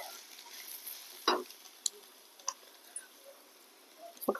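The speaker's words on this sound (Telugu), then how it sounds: "ఉల్లిపాయ ముక్కలు బాగా ఎర్రగా వేగాలండి." Onion pieces fry in a pan with a faint, low hiss broken by a few sharp, scattered pops and clicks. No one speaks.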